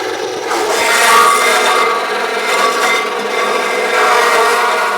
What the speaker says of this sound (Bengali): তো আমরা এখনই বাঁশটা কাটবো, চলুন মেশিন দেওয়া যাক।